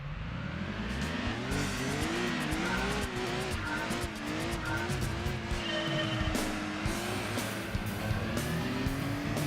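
A racing car fitted with a Stage 2 Turbo in Gran Turismo 2 roars loudly and continuously, its engine pitch climbing and dropping through gear changes, with tyre squeals layered over the drone and no talking.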